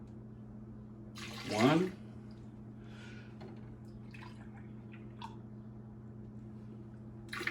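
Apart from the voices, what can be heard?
whole milk being poured into Swedish pancake batter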